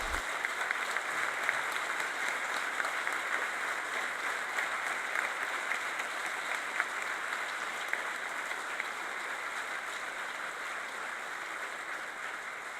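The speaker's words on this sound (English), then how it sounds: "Please, let's all give them a round of applause." Steady, sustained audience applause at a police academy graduation ceremony, a dense even wash of many hands clapping continuously at moderate distance with no speech over it.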